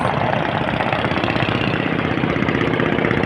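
A steady, loud engine drone with a continuous low rumble and no breaks, heard close up from a passenger launch running from Dhaka to Chandpur at the Chawkbazar ferry terminal.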